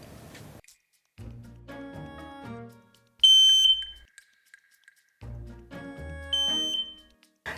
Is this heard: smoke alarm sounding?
yes